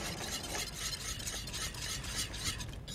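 Shredded sharp cheddar cheese being whisked into a pot of beer cheese soup, a steady close scraping and stirring swirl with faint sizzle underneath, continuous with no talking.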